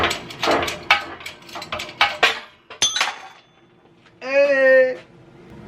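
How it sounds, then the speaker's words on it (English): Gears being pressed off a transmission shaft during a gearbox teardown: a series of sharp metallic clanks and knocks, then a brief high squeal, with some mechanical whine near the end. "We're gonna press the 4th gear off now."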